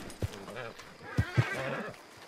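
A horse in a roleplay video game walks close by, hooves clip-clopping in a few distinct thuds and a whinny, under ongoing voice chat.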